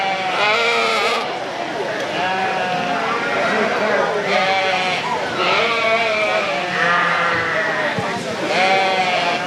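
Sheep at a livestock show sale ring bleat repeatedly in overlapping calls, loud and close, while an announcer talks over them.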